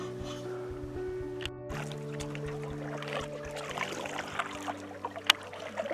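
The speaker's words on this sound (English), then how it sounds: "Out for a great paddle after a hard day's work." Paddling a small boat across a lake on a calm day, with soft, steady water strokes and drips under a faint low hum, plus a couple of sharper knocks near the end.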